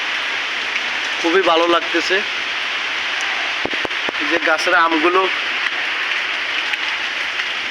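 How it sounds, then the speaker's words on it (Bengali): Rain falls steadily over a village home in Bangladesh, a constant broad hiss running throughout while someone talks over it in two short bursts. "দেশের বাড়িতে খুবই সুন্দর একটা বৃষ্টি হইতেছে"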